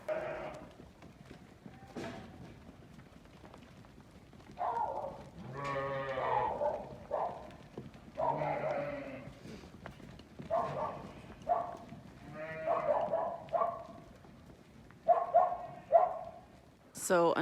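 Ewes bleat repeatedly at close range while a group of sheep is let into a pen, with hooves shuffling and a person talking between the calls.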